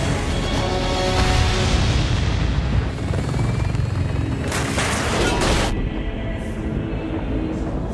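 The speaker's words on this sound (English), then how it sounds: "Another of those explosions," Thunderous explosions and aircraft rotor roar from the Ace Combat: Assault Horizon jet combat game, a dense, loud continuous rumble with sharp bright blasts bursting through near the middle before the noise thins out.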